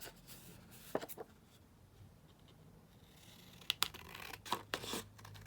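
Scissors snip along a paper edge strip in close, crisp bursts, with a couple of cuts near the start and a faster cluster of sharp snips toward the end against a quiet room.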